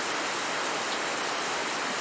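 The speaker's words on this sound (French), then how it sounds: "Au secours, la pluie." Steady hiss of rain falling, an even wash of noise with no voices.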